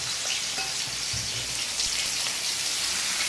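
Hilsa fish pieces frying in hot oil in a pan, giving a steady, dense crackling sizzle that stays close and even throughout, with no voices.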